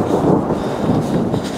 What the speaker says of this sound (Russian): Раскатики грома, да?